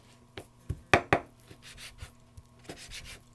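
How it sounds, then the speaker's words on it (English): Knife dicing steak on a cutting board, a few sharp close chops and taps spread irregularly amid quiet kitchen handling noise. "let me finish cutting up this steak for you"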